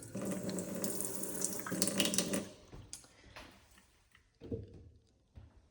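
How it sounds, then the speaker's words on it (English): Water pours from a faucet into a deep stainless steel kitchen sink for about two and a half seconds, then shuts off, leaving a few faint drips and small handling knocks. "It's a nice deep stainless steel sink. Nice faucet."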